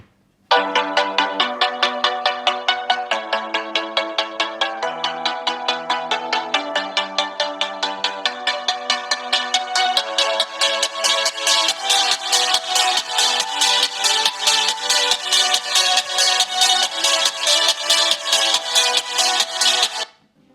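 A ringtone plays through the single small loudspeaker of a Huawei Nova 9 smartphone, a bright repeating melody that grows fuller and louder over about twenty seconds.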